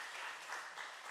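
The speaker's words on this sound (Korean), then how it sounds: "우리 한번 어르신들께 박수로 감사의 인사드리겠습니다." Church congregation at a Sunday service applauding the elders, a soft steady wash of clapping hands sustained throughout, fairly quiet and distant, with no talk over it.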